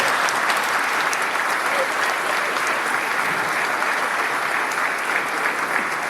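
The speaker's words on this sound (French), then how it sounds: "Est-ce qu'on peut applaudir les enfants, s'il vous plaît?" A church congregation at a First Communion Mass applauds the children, a steady, even wash of many hands clapping at moderate distance throughout, without pause.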